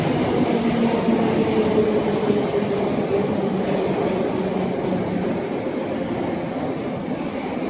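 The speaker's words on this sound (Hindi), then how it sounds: "ये ट्रेन के डब्बे हैं।" Train carriages on a Moscow rail line give a loud, continuous rumble and roar of rolling wheels, close and steady throughout with no voices.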